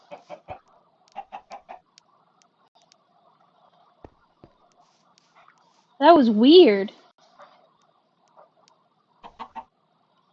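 Chickens cluck in short bursts in a Minecraft game, with a longer squawk near the middle and a few clucks at the end, and a voice speaks briefly between them.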